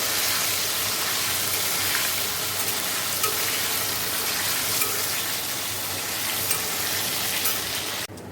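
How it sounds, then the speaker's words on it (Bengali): Potatoes frying in hot oil in a home kitchen, a steady, loud, close sizzle running without pause throughout. "দেখো আলুগুলো ভেজে নিচ্ছি"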